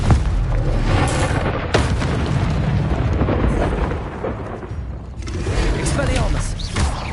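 Explosive Confringo spell blasts in a Hogwarts wizarding video game, loud booming bursts that roll almost continuously, with a sharp new hit near the two-second mark and another surge after five seconds.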